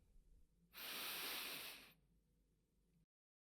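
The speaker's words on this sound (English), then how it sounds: "If you're able to, please close your eyes. Take a deep breath in." A deep breath drawn in during a guided meditation, one steady airy inhale of about a second, close and fairly soft, with no talk over it.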